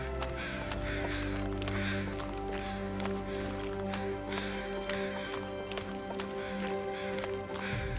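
Crows caw repeatedly in the snowy wilderness of the survival video game The Long Dark, a run of sharp calls over a steady low in-game drone, with no talking.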